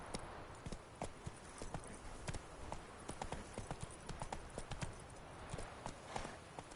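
A horse gallops in The Witcher 3 video game, with rapid rhythmic hoofbeats drumming steadily and close throughout, the clip-clop pattern repeating evenly without pause.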